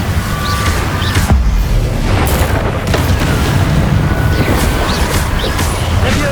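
A fire spell cast in the Hogwarts Legacy video game rumbles as a loud, sustained roaring whoosh amid continuous combat booms and crashes, with no gaps between blasts.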